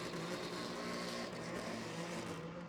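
At a drag strip night meeting for Japanese and European cars, an engine roars steadily in the distance as a Toyota Supra races down the strip, a continuous faint drone with no clear pass-by peak.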